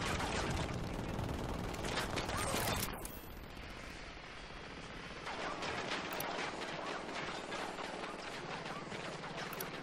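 Automatic gunfire from the military shooter Ghost Recon Wildlands, a dense rattle of rapid shots that eases off briefly before heavy firing resumes, with someone speaking faintly under it at times.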